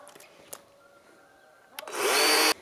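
A new chainsaw starts cutting, a short loud roaring burst after a few faint knocks and a quiet stretch, then it cuts off abruptly.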